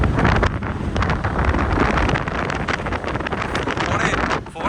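Strong wind buffets the microphone at a port near a lighthouse on the Kerala coast, a loud, continuous roar with gusty surges that fills the whole clip.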